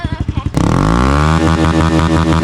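A Honda CRF110 pit bike fitted with an aftermarket exhaust idles in quick chugging pulses, then is revved hard to full throttle and held high, loud and close.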